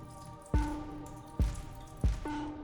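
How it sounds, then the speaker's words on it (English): Water draining from a Gevi countertop ice maker after its cleaning cycle: three hollow plunking drips about a second apart, each ringing briefly, close up and clear with no talking. "You'll just drain the water that you just used for your cleaning cycle"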